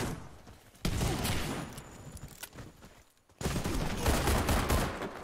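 Bursts of automatic gunfire from the online shooter Warface crackle loud and close, dense fusillades broken by a brief near-silent gap before the firing resumes hard to the end.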